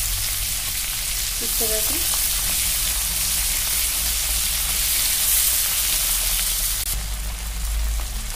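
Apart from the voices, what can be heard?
prawns frying in oil in a pan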